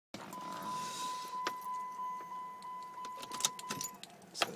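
A car key is turned in the ignition with keys jangling against each other, producing a few close metallic clinks over a steady electronic tone, with no one talking.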